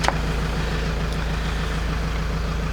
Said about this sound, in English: John's just put the engine on